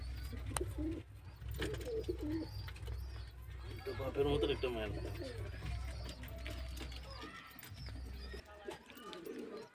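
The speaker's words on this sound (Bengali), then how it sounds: "তো এখানে আছে একটা নর পায়রা কালদুমার।" Giribaz pigeons in a loft coo in a drawn-out rolling flurry near the middle, with fainter coos scattered around it, under a constant low hum and people talking.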